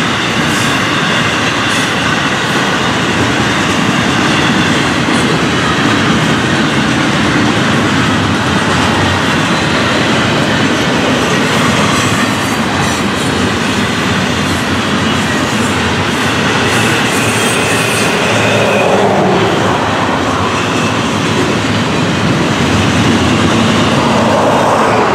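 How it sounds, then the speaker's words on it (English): A fast train roars past close by, a steady loud rush of wheels and rail clatter lasting throughout, with no voices. "The fast train is safely by us"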